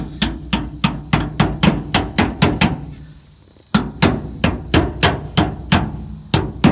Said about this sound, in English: So I'm going to start tapping it in.